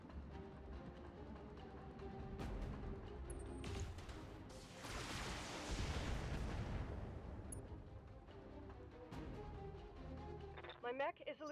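Castle turrets fire in the BattleTech mech game, with heavy thudding shots and blasts swelling into a loud rumbling roar mid-clip. A voice speaks at times over the game sounds.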